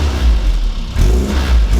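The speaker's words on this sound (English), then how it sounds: "Give it a little rev." A Classic Mini Van engine revs through a Maniflow twin silencer exhaust in several quick, close bursts, a loud low rumble swelling and dropping back between blips, with no talking.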